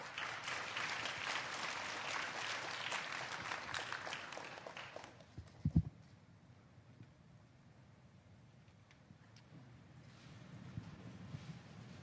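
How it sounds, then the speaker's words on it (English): An audience at the opening of the 2022 Yushan Forum in Taiwan applauds the President of Palau with a dense burst of clapping. It fades out after about five seconds, a thump follows, then faint room noise and a soft swell near the end. "Please welcome President Whips with a warm round of applause."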